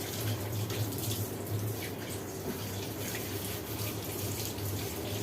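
Tap water runs steadily over a metal pan whose rusty, stained bottom has just been scrubbed. The rinse gives a constant close splashing rush with no speech.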